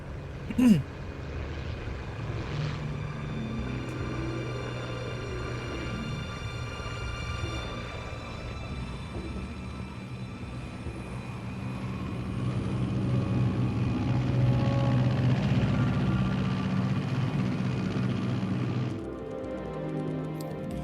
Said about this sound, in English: Hey, we're in, look, an AC-130.